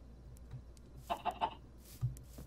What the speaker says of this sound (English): there's a lot of chickens around here